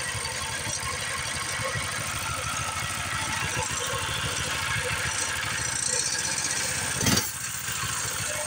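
A Kartko Power Ride 675 go-kart engine idles steadily at close range, a continuous low, throbbing mechanical drone that holds even for several seconds and swells slightly near the end.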